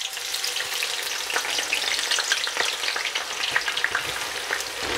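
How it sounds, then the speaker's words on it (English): Onions fry in hot oil over high heat, giving a continuous crackling sizzle with scattered sharp pops, steady and close throughout. "So straight in with my onions, and we're just going to fry them until they're really nice, dark and golden brown and crispy."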